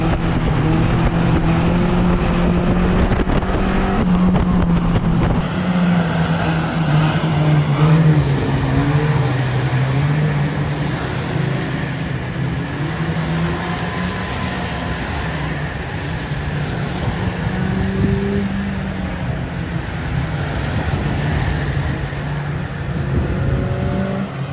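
Steady roar of race car engines with rising and falling pitch as cars circle an oval track at Cowdenbeath Racewall, continuous and fairly loud with some distant whine.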